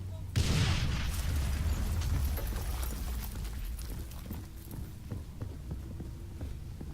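A grenade bursts with a sudden heavy boom in the zombie shooter No More Room in Hell, a deep rumble that swells then fades into a low lingering drone, fairly quiet overall with no talk over it.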